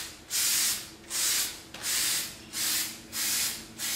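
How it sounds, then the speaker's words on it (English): Paint stripper sprays from an aerosol can onto a YZ250F motocross frame in six close, loud hissing bursts, each about half a second long, with short pauses between them in a steady back-and-forth rhythm. "So right now, I'm going to start spraying this on."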